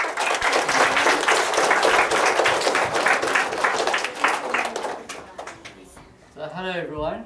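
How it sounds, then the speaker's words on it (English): Schoolchildren in a primary school assembly clap loudly and steadily for a few seconds, the applause fading before a voice starts speaking. "So give him a big clap."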